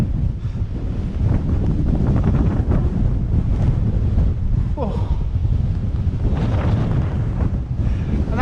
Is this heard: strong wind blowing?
yes